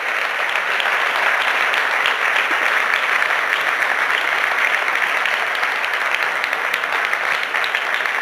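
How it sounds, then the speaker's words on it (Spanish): Audience at a talk on the future of the automotive industry in Valladolid applauds after the presentation, a long, steady and loud wash of many hands clapping with no voices over it. "Podéis aplaudir, ¿eh?"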